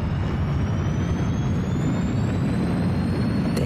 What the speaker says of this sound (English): It's the Pinky Ponk on a launch pad getting ready for takeoff.